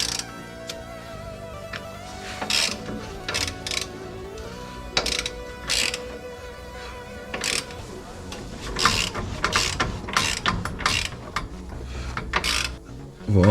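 A hand ratchet tightens a part on a Volkswagen Golf 4 during repairs, giving repeated bursts of metallic clicking separated by pauses, near and fairly loud, with mechanical clinks in between.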